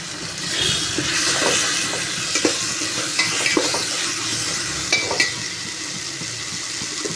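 Sautéing in a pan: a steady loud sizzle runs throughout while a spatula scrapes and taps the pan in irregular strokes, with no voices.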